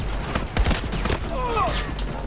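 Gunfire rattles in a quick burst of shots during a Battlefield 2042 match, close and punchy over a brief moment, with a voice talking faintly underneath.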